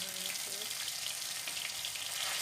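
Dry red chillies and cumin seeds fry in oil, a close, continuous crackling sizzle with a faint brief hum early on and no speech.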